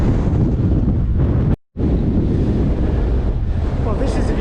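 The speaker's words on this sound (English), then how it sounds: "It's blowing a gale." A strong gale roars across the microphone at Dove Dale near Thorpe Cloud, a steady loud buffeting rumble that cuts out for a moment and then returns.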